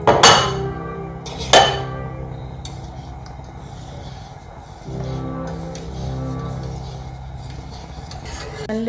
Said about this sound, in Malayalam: ഇനി നന്നായി ഇതിനെല്ലാം കൂടെ ഒന്ന് മിക്സ് ചെയ്തെടുക്കാം.